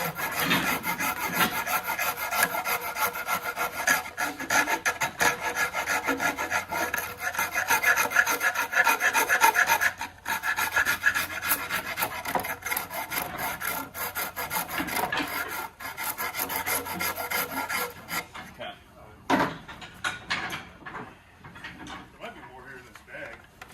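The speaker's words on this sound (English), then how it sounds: "I'm gonna just curve this off with the Shinto." A Shinto rasp curves off the edge of a wooden piece, rapid scratchy back-and-forth strokes close and loud for most of the stretch, then sparse knocks and handling near the end, with a voice speaking at times.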